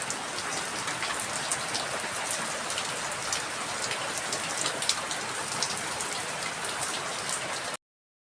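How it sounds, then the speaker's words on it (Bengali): Heavy downpour drumming steadily on a tiled roof, a dense, even hiss of rain that stays loud and unbroken before cutting off abruptly near the end. "এখন মুষলধারায় বৃষ্টি পড়ে যাচ্ছে।"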